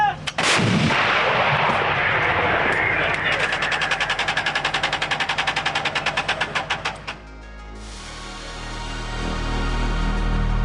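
A 2S7 Pion 203 mm self-propelled howitzer fires one deafening close blast, followed by a long rapid mechanical rattling and clanking, then a rising low engine rumble.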